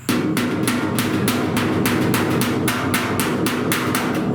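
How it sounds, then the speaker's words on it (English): Light, steady hammer taps knock down a high spot in a dent on the rear panel of a 1969 Chevrolet C10 pickup, about three blows per second, close and crisp over a constant low hum. "So I want to start tapping that high spot down."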